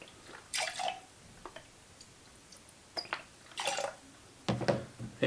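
Ocean Spray cranberry juice poured for a bourbon cocktail in a home basement bar, heard as a few short liquid splashing bursts close by, with quiet pauses between them and a louder splash at the end.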